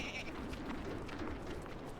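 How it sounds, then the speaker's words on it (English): Volt Goats bleating in the survival game Don't Starve Together, a steady mid-level bleat blended with game ambience over two seconds, with no talk. "A lot of Volt goats."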